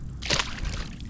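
A bass is dropped back into a clear-water fishing pond, making a single brief splash and slosh up close, followed by a short gurgle of settling water.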